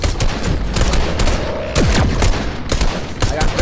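Rapid bursts of automatic gunfire in a video game as players shoot at creatures, loud and close, with bursts stopping and restarting and a brief gap midway, along with a few scattered booms.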